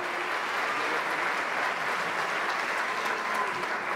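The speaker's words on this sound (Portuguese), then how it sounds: "dê um aplauso para esse Jesus" Steady applause from a church congregation, dense clapping sustained evenly for a few seconds with no voices rising above it.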